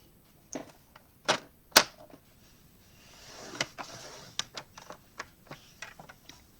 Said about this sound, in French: là, vous avez là, le massicot de Stampin' Up